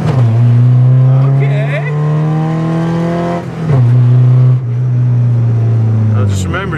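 A cheap Porsche four-cylinder engine revs loudly up and down several times close by, each blip climbing in pitch and dropping back, while someone speaks briefly.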